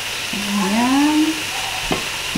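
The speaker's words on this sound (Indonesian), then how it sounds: "Kita aduk lagi." Chicken pieces cut for soup being stirred in a pan, a loud close scraping and sliding stir with a squeaky rising streak, followed by a second short scrape, with no talking.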